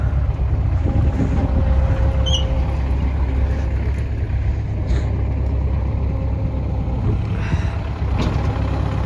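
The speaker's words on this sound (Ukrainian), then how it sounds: "Трактор буксує." A tractor engine labours at a steady low drone while its wheels slip in a heap of grain at a farm. The rumble stays constant and fairly close with a little wind noise, and no voices are heard.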